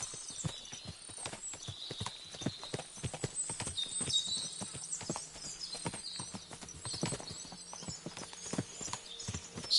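Steady clip-clop of horse hooves on a hard surface in the video game Kingdom Come: Deliverance II, brisk and rhythmic, fairly close, with no voices.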